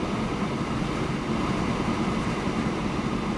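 Train pulling away from a signal in the Transport Fever video game on a European map, a steady low rumbling drone of rolling rail cars that holds even and continuous throughout.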